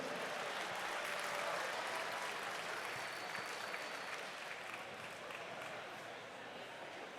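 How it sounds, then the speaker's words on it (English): A crowd at a live cigar event gives a long, dense round of applause for the Smoke Inn crew, steady and full before slowly easing off, with faint voices mixed in. "So how about we give a big round of applause to Abe Dababneh and the whole Smoke Inn crew"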